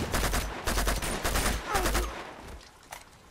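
Bursts of rapid gunfire crackle through a firefight in Uncharted 2: Among Thieves, set in Nepal, dense volleys for most of the stretch before thinning into a few scattered shots near the end.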